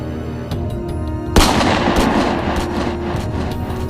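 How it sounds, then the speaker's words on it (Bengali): A single loud, close rifle shot cracks out about a third of the way in and rings off into a long rumbling decay over low background noise, set in a story of hunting a black leopard. "চিতাটাকে দেখার সঙ্গে সঙ্গে গুলি করি।"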